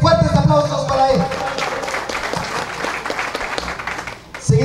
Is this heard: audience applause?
yes